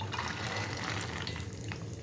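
Peanuts dropped into hot oil in a pan on a stove, frying for a Telugu-style flattened rice mixture: a steady, close, broadband sizzle and hiss that holds level throughout with no speech.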